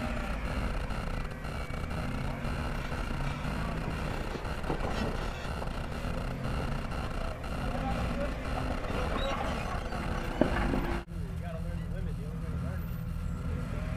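A Jeep Wrangler TJ's engine drones steadily while off-road wheeling, a constant low rumble with a brief thump near the end and a slight change in tone afterward.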